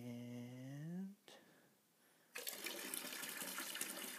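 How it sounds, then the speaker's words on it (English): Apple juice for home cider brewing pours and splashes into a fermenting vessel, a dense close rushing gurgle starting abruptly after a brief voice and a short pause, then continuing steadily. "Now it's okay to let it splash because you're going to introduce oxygen into the mix"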